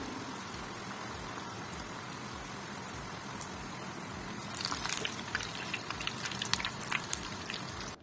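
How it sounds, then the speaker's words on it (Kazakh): Cauliflower florets coated in batter fry in hot oil, giving a steady crackling sizzle throughout that grows louder and busier with sharper pops in the second half. "Дәл осылай аударып жақсылап қуырып аламыз."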